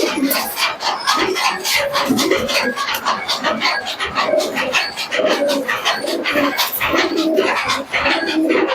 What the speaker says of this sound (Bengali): দেখো চলো কবুতর দুটো খাঁচায় ছাড়ো